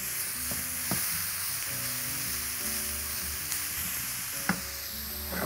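Plain minced meat with only salt and pepper frying on onions in a pan, a steady close sizzle with a few spoon taps, no voices.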